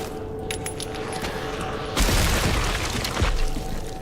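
A stack grenade going off in a video game, a sudden loud burst that cuts through the quieter ambient game sound, followed by a second, smaller thump.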